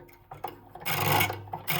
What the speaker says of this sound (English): a bit of ball rattle going on.